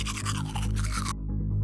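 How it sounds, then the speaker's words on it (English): Someone brushes their teeth in an animated film, a steady close scrubbing of bristles that stops abruptly near the end over a low background hum. "brush my teeth"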